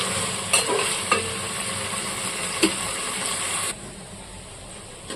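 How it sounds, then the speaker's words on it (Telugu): Paneer cubes frying over a high flame, giving a steady close sizzle with a few sharp clinks from stirring, then quieting to a softer fry near the end. "దగ్గరుండి హై ఫ్లేమ్లో పెట్టుకుని వేయించుకోవాలండి"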